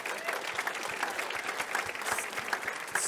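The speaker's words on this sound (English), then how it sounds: "So round of applause." An evening food event's audience applauds the chefs with a dense, continuous patter of many hands clapping at once, steady and moderately loud throughout.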